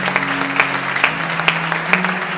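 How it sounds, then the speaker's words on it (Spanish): A church congregation applauds in steady, dense clapping that carries through the whole stretch, with a few sharper claps standing out and no voices over it. "quiero que le demos un aplauso"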